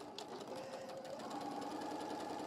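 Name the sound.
sewing machine stitching fabric Easter egg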